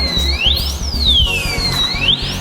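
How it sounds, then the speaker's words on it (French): A bicycle disc lock alarm wails loudly with rising and falling siren-like sweeps, repeating continuously with a pulsing low buzz underneath. "Alors le bloc disque alarme"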